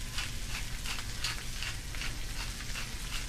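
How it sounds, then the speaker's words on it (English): Steady, crackling sizzle of corn frying in a hot skillet, with soft rhythmic scraping as it is stirred, close and continuous. "You hear that sizzling?"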